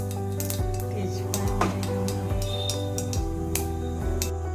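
Bay leaf, cumin and mustard seeds sizzling in hot oil in a pan while preparing palak paneer, a close, steady crackling hiss with occasional clinks of a utensil against the pan.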